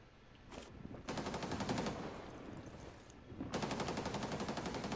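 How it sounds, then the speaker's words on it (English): Hatch being blown open in Rainbow Six Siege, heard as a sharp blast followed by rapid gunfire bursts that fill the clip in two loud stretches, with a brief lull between them. "Oh, they did blow the hatch."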